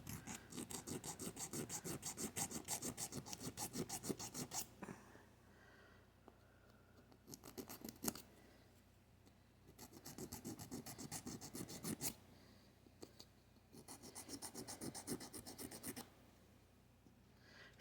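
Rasping, scratchy bursts of filing as toenails and cuticles are shaped and trimmed during a self pedicure, coming in rhythmic strokes that stop and start with short quiet gaps.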